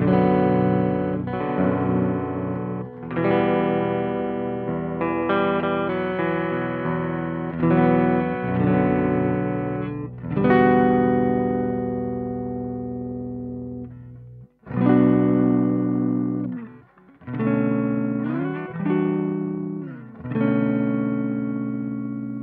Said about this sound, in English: here's the neck humbucker